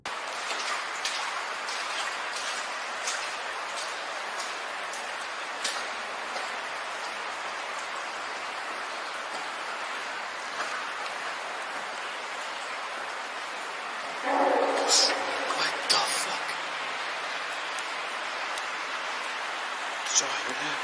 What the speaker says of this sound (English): the sounds of rushing water intensifies